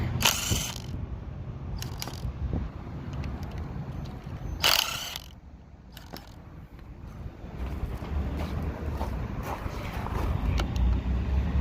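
A ratchet tool works loose the park brake mechanism on a 1957 Plymouth with the engine out, sounding as a few quick bursts of rapid metallic clicking over a low, steady background.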